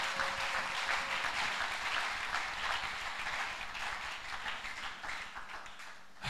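A church congregation at a convention applauds, a dense, steady wash of many hands clapping at moderate distance for several seconds, gradually thinning toward the end, with no voices rising above it.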